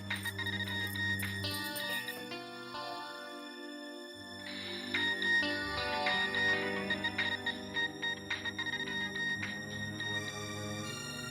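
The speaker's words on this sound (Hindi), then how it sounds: "लगता है आ गया मेरे बीजू का फोन।" A musical ringtone plays continuously, its melodic electronic tones repeating over a steady low backing, with no one speaking.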